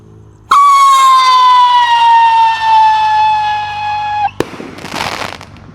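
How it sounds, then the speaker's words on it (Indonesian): Pyrotechnic firework rocket screaming as it launches, a loud whistling tone gliding slowly downward for about four seconds before ending in a sharp crack and crackling burst. "Oke, roket pirotor sudah menyala, siap meluncur."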